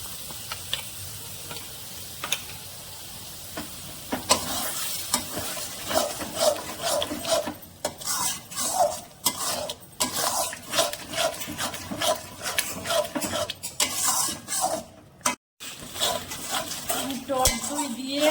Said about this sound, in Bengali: টক দই দিয়ে আরেকটু ভালো করে কষিয়ে নিয়েছি।